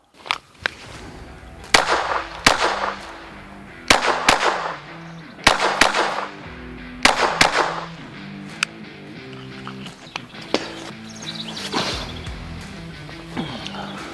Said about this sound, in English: We're just going to do, you know, some shooting here.